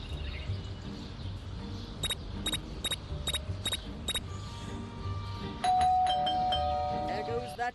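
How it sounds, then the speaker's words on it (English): A doorbell in the video game Scary Teacher 3D rings five times in a steady, evenly spaced sequence of bright chimes, followed by a longer sustained electronic tone, over a constant background game hum. "There goes that stupid bell again."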